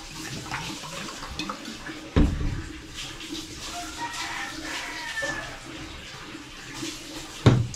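Water running steadily from a tap, a continuous broadband rush with a couple of sharper knocks and splashes, fairly close and loud, with faint background voices.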